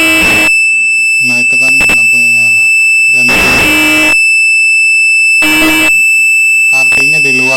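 An alarm buzzer on an Arduino Wemos project sounds in loud repeated bursts, a steady high tone with harmonics, alternating with a person talking between and over the beeps.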